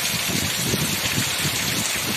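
Heavy pre-monsoon rain pours steadily in a village, a dense, loud, continuous hiss with low rumbling gusts beneath. There is no talking.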